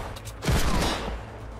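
A carbine fires in a Fortnite Chapter 1 match: a sudden loud burst of shots hits near the middle and rings on as a dense, rumbling volley before easing off.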